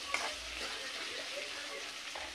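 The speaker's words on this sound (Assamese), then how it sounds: "মই আদা ৰচুনখিনি পিঁয়াজখিনি ধুনীয়াকৈ কেঁচা গোন্ধ নোযোৱালৈকে ভাজি দিছোঁ অলপমান" Ginger, garlic and onion fry in oil in a pan, giving a soft, steady sizzle with occasional scrapes of stirring, fairly quiet and close.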